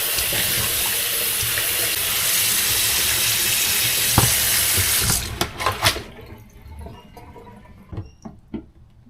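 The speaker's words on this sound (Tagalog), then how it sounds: "Hugasan lang natin ito." Pork being washed under a running kitchen tap: a steady, loud rush of water splashing into the sink that cuts off partway, followed by wet handling noises, drips and clatter.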